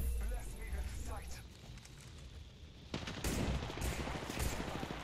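Rapid gunfire bursts from a first-person shooter match in Apex Legends, loud and close, a dense volley kicking in near the midpoint and continuing to the end, with a player's voice talking over the action.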